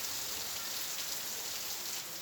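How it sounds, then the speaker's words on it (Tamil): Heavy rain falling with wind, a steady dense hiss of downpour throughout, even and continuous with no voices. "காற்றுடன் கூடிய கனமழை பெய்தது"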